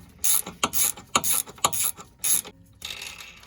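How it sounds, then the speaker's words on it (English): A 14 mm wrench and an Allen key work loose a sway bar link nut, giving a string of sharp, close ratcheting bursts that end in a softer rasp. "I'll just put my 14 mil wrench in, then I'll put the Allen in, and then it just comes off"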